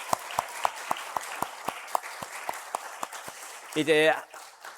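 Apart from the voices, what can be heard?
congratulatory applause from congregation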